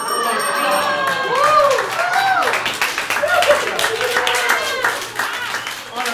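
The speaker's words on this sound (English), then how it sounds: "Solid claps across the board." A comedy showcase crowd claps and cheers loudly with a sustained round of applause, while voices with rising, exclamatory tones call out over the clapping.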